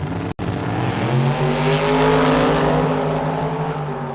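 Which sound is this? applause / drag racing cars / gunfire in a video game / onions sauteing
drag racing cars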